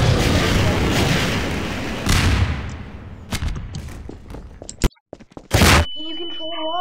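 Rocket explosions in Garry's Mod, loud booming blasts with rumbling tails, then a scatter of sharp bangs and pops before a final burst and a tonal game sound at the end.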